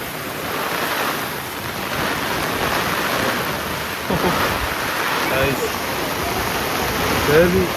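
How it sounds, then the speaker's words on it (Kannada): Heavy rain pours down at an open-air fish market, a steady dense hiss with gusty wind noise on the microphone throughout, under occasional voices. "ಮಳೆನೂ ನಡೀತಾ ಇದೆ."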